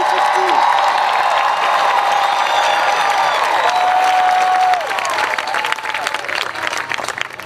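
Sustained audience applause with some cheering fills a graduation ceremony hall for the class of 2015 at Howard University, loud and dense throughout, thinning slightly toward the end.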